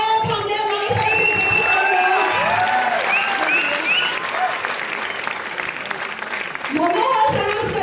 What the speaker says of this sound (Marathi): टाळ्यांच्या गजरात स्वागत करूया या चित्रपटाच्या निर्मात्यांचं.